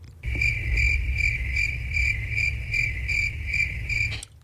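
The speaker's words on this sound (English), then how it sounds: "Crickets." Crickets chirp in a steady, evenly pulsed trill, a clear repeating pattern that runs unbroken at moderate loudness and stops abruptly near the end, with no one talking.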